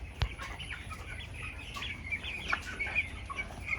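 Chickens clucking in a poultry shed with broiler birds around 1.1 kg, several overlapping clucks and short calls at moderate distance over steady breezy background noise, no talking.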